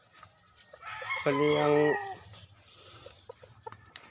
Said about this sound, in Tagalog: puro na gid ni sila na manok sulod karon